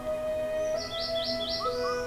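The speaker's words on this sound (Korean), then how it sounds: "들려오는 새소리," Birds chirp and trill in a forest, with a steady whistled tone and repeated rising tweets over a quiet, constant background hum.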